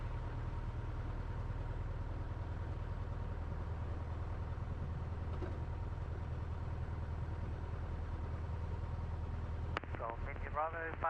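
Light aircraft engine droning steadily while taxiing on the ground, a continuous low hum throughout, with a brief radio voice crackling in near the end.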